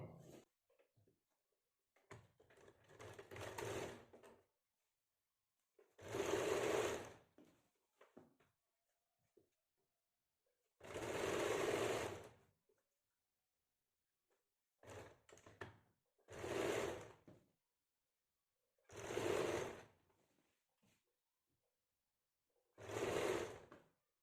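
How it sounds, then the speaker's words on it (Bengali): A sewing machine stitches a kameez panel in short bursts of a second or two, each followed by a quiet pause, with a few smaller rattles between runs. "এবার দ্বিতীয় পার্টও আমরা একইভাবে সেলাই করে নেব"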